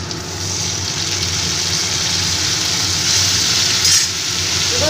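Spice paste for a mixed five-lentil dal fries in a pan, giving a loud, steady sizzle with a stirring scrape, close and continuous and free of talk.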